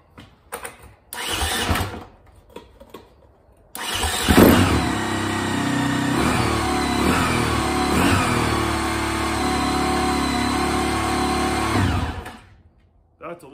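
A stone-cold Husaberg FE 450 motorcycle engine is cranked on the electric starter, with brief stuttering bursts before it catches, then idles loudly and steadily for several seconds before shutting off.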